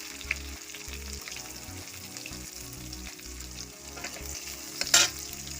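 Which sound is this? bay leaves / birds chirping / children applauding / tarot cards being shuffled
bay leaves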